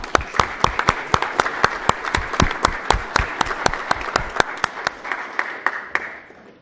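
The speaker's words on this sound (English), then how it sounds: "Now we can clap." A small audience at a Lompoc city council meeting gives a steady round of applause, individual claps dense and close together, carrying on for several seconds before thinning out and stopping.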